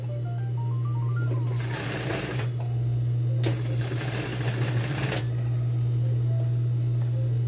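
A sewing machine stitches men's trouser fabric along the pocket seams, its motor humming steadily throughout while two bursts of rapid, loud needle stitching rise over it, close by and with no talking.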